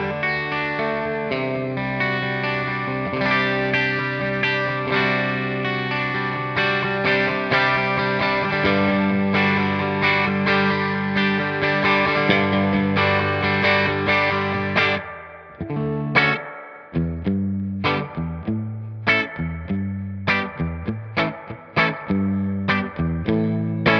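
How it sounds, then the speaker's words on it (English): Guitar amp tone through the Safari Pedals Silver Llama plugin with spring reverb engaged, sustained layered chords for about fifteen seconds, then sparse plucked notes ringing out with reverberant tails between them, no talking. "let's check out the spring reverb"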